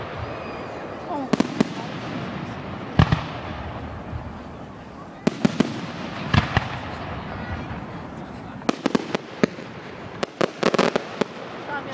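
Canada Day fireworks over Woodstock, Ontario burst in sharp booms and crackling volleys, some single and some in rapid clusters, with people talking nearby between the blasts.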